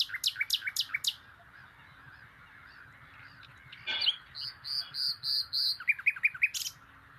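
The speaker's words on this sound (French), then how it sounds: "vous allez avoir le rossignol, par exemple, avec son chant très très puissant" A recorded nightingale sings loud, varied phrases of rapid repeated notes and pure whistles, bursts separated by short pauses, with a clear nearby quality.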